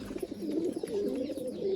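Pigeons coo in low, repeated throaty notes, fairly close and continuous, with faint rustling beneath.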